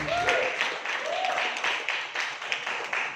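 Light applause from an audience at a marketing plan presentation, a steady patter of clapping that holds evenly throughout, with faint voices rising briefly underneath.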